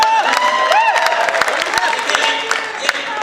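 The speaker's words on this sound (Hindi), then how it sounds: "ताली बजाइए।" An audience claps during a Hindi comic poetry recital, a steady dense patter of applause mixed with crowd voices and talk throughout.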